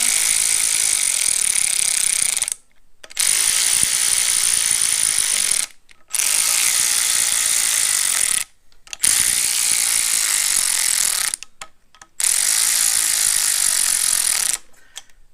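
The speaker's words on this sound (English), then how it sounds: "we can take the good old electric ratchet and just run them in" An electric ratchet runs bolts in during a timing belt install on a 2008 Subaru Impreza 2.5, whirring loudly in five long close bursts separated by brief pauses.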